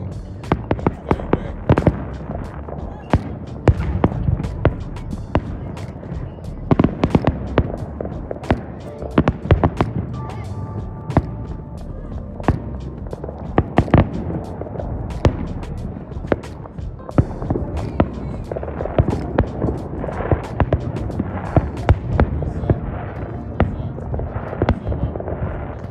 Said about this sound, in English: With the fireworks in the background.